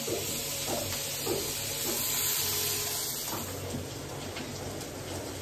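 Bhola fish sizzling as it fries in a pan at home, a steady soft hiss of hot oil with faint crackles, quiet and close, no talk.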